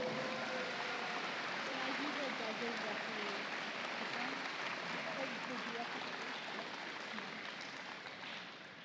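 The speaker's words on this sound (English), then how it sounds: "Let's give them a round of applause." A crowd at a FIRST Tech Challenge state championship awards ceremony in Oregon claps in a broad steady wash of applause that slowly fades, with voices mixed in beneath.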